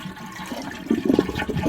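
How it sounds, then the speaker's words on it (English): A toilet is flushed with the handle held down after the water supply is shut off for a fill valve repair, giving a close gurgling rush of draining water that swells midway. "Flush and hold it down"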